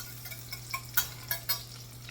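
Salted butter melts in a pan, giving a faint, sparse crackle with a few soft pops and light clicks over a quiet, steady background hum.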